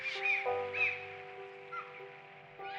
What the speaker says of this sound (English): Do you remember the beaches and the seagulls?